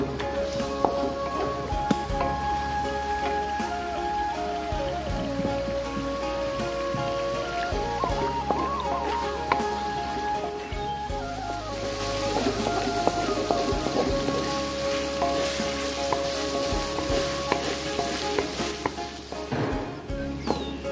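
Spice paste stir-frying with lemongrass and lime leaves for a spicy tuna rica-rica with basil, a steady dense sizzle like rain filling the clip, with faint scraping and no talk.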